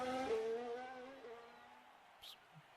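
Race car from F1 Manager 2022 heading out onto the track, a brief engine whine rising and fading away quickly, then leaving faint background noise with a short click near the end.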